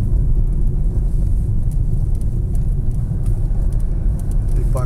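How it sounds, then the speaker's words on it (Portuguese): Heavy car and truck traffic on the BR 116 highway in Bahia, Brazil, makes a steady, loud, unbroken rumble and road roar that lasts throughout, with no talk. "aí aumenta o volume de carro e de caminhão"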